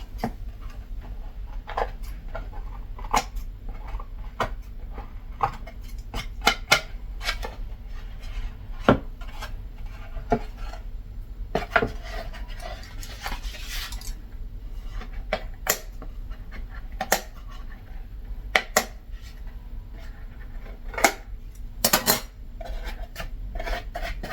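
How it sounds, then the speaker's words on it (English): Scissors and a knife work on a handmade fake bake cake, giving scattered dry rasping scrapes and sharp little cuts and taps at an uneven pace, close and moderately quiet with no talking. "Now I'm cutting really big slices"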